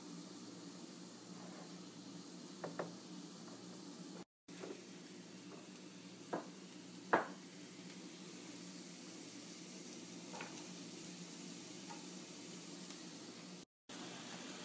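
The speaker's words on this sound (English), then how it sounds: "We are going to add carrots and potatoes now." Carrots and potatoes go into a hot pot with a steady faint sizzle and hiss, broken by a few soft clicks and clinks of utensils.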